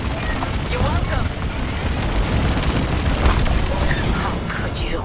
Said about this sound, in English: Evac ship destroyed.